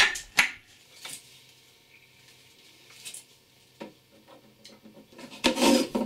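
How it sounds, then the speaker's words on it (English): Joining screws being driven to fasten parts of a half-kayak iceboat: intermittent rasping, rubbing and sharp snapping clicks, growing into a louder grinding stretch near the end. "Fasten it with the joining screws."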